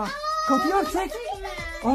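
A cat meows close by in a house while children talk over it, the drawn-out cries blending with their voices.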